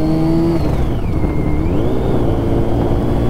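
A Yamaha FZ1 motorcycle engine runs loud and close, its pitch rising, dipping and climbing again as it revs, with a constant whirring drone throughout.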